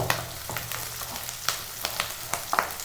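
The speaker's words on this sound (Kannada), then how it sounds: "ಇದು ಚೆನ್ನಾಗಿ ಫ್ರೈ ಮಾಡ್ಕೊತಾ ಇದ್ದೀನಿ." Spices and chillies frying in oil for a village-style greens sambar, with a continuous crackling sizzle and soft periodic stirring scrapes, close and steady with no voices.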